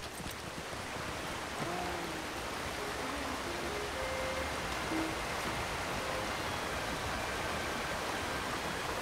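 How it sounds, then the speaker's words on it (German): Steady, dense rush of falling water from a waterfall in the online game Lord of the Rings Online, a continuous broadband roar with faint tonal game sounds drifting over it and no talk. "Das ist schon der Wasserfall."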